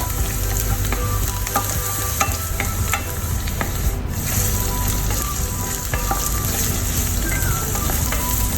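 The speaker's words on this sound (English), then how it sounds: "heat up the oil in a wok and saute the garlic" Garlic and onions sauteing in hot oil in a wok, a steady loud sizzle running throughout with scattered clicks and scrapes of stirring, no voices.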